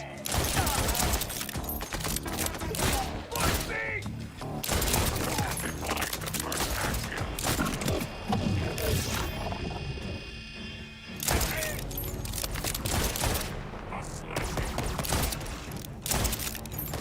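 Rapid, dense gunfire from a weapon in the video game Borderlands 4, loud and continuous with repeated bursts, a short lull near the middle, then shooting resumes.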